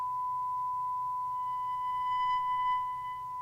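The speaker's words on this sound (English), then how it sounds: "It's a sine wave. You can hear that, right?" A synthesizer oscillator holds a pure sine-wave tone: one clean, steady pitch that sustains unbroken for several seconds at moderate volume, with no voices.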